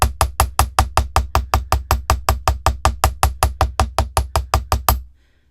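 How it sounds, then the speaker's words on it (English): A ball peen hammer taps lightly on wire about twenty-five times in a fast, steady, even rhythm, each strike close and sharp, then the tapping stops and silence follows. "So ball peen hammer, just hammering lightly."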